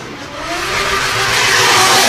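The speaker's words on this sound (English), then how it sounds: "Dan Tyler pulls to the line in this 1JZ powered Nissan S14" A 1JZ-powered Nissan S14 drift car at a British Drift Championship round at Buxton, its engine roaring steadily and building in loudness over a broad, rushing wash of sound, with no talk.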